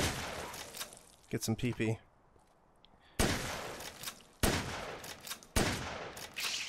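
Loud, sharp blasts from a shotgun in the remastered zombie game Dead Rising on PS5, spaced a second or so apart with booming decays, after a man's brief spoken remark.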